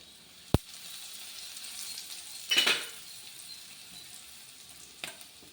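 Curry leaves and asafoetida temper in hot oil with a faint, soft sizzle, broken by a sharp metallic clink, a brief louder spitting flare and a lighter clink near the end.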